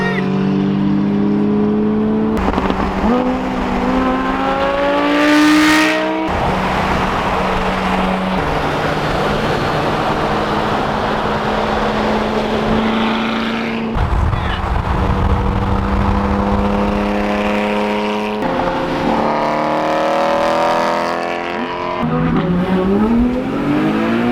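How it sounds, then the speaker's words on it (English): A V10 Plus supercar engine roars loudly up close, accelerating hard through several gear changes, its pitch climbing and dropping between shifts. "the RA V10 Plus sounds just like a Lamborghini Huracan"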